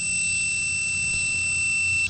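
A laser level detector gives off a continuous high-pitched electronic beep, a steady tone held above a low outdoor rumble of machinery at a pool pad excavation site.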